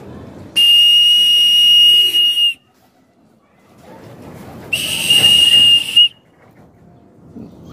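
A shrill whistle is blown twice in long steady blasts to scare pigeons off, loud and close, with a short gap of quiet between them.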